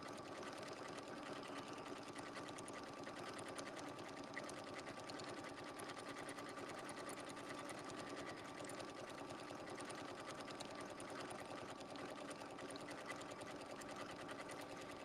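A sewing machine stitches appliqué circle motifs on its slowest decorative stitch, running as a steady, even mechanical whir throughout with no pauses.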